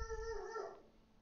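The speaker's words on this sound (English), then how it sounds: "my dog is barking" A pet dog lets out a single short, faint howling whine that trails off, heard alone in a quiet room.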